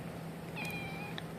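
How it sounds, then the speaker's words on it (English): A house cat lets out a single clear meow, with a short second chirp right after, close by over a steady low room hum. "just meowed at me"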